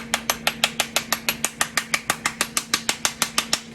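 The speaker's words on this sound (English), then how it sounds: "heavy spoon and we're going to do some taps all the way around" A heavy spoon taps steadily around a 3D-printed bath bomb mold, about twenty crisp, evenly spaced knocks in quick succession, close and clear with no talking.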